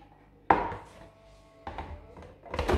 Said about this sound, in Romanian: O să feliez ceapa.